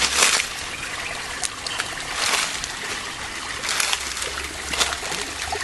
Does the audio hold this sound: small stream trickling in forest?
yes